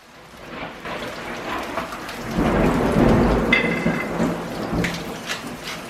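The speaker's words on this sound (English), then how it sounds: "This was a perfect day for me to make this dish because it was a thunderstorm outside." Outdoors a thunderstorm pours rain steadily while deep rolling thunder swells and rumbles through the middle, loud and close, with scattered sharper drops and crackles on top.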